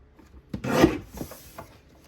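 A paper trimmer slices through a sheet of scrapbook paper, giving one close rasping swipe that swells and fades over about a second, followed by softer scuffs as the paper is handled.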